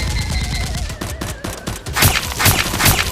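Nerf guns fire in a rapid burst of sharp, close pops and clacks, growing louder and denser toward the end with a hissy, rattling edge.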